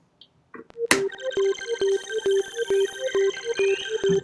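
A bright synthesized sine tone pulses in an even chirping rhythm, each note trailed by shimmering, grainy echoes that smear into a ringing haze.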